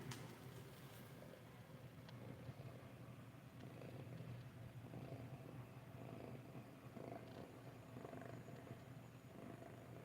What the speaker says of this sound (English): Oh, I can hear him purring.